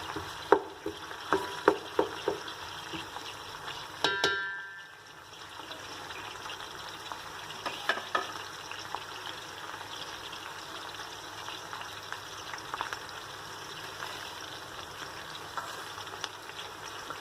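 Chopped medium-size onion frying in a pan over full flame, a continuous soft sizzle with scattered clicks and stirring knocks, one louder clatter early on.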